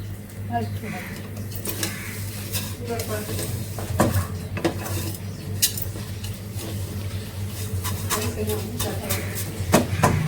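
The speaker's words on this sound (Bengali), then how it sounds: "একটু ঘি দিয়ে ভেজে নিচ্ছি সেমাইটা" Vermicelli stirred in ghee in a pan, with scrapes and clinks over a low steady hum, a soft frying crackle underneath, with talking through much of it.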